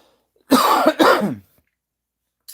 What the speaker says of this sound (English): Excuse me, guys. I got a cough.